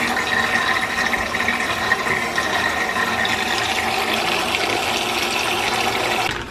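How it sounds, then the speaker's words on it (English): Water pours steadily into a sous vide container during meal prep, a loud, continuous rushing and splashing stream close by that runs unbroken and then tapers off at the very end, with no talking over it. "We're going to add a little bit more water. You'll hear it when the water's in there."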